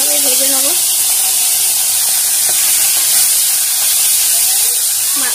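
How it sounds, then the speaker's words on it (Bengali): Fish frying in hot oil in a pan, with a steady close hiss and sizzle running throughout, while a person talks briefly at the start. "মাছটাকে ভেজে নিচ্ছি"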